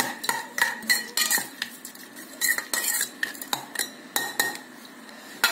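A metal spoon stirs a mixture in a pot or bowl, giving a quiet run of repeated scraping clinks in an uneven rhythm, close and alone with no talking.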